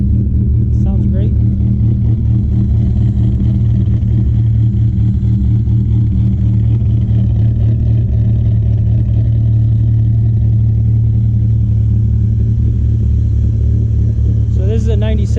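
A 1997 Dodge Viper GTS V10 engine rumbles loudly and steadily, close, with a lumpy low throb, swelling slightly at moments, with faint voices underneath.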